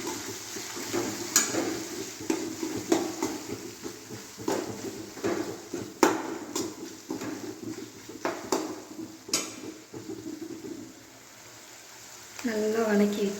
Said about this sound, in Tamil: போட்டுட்டு நல்லா வதக்கி விடணும்.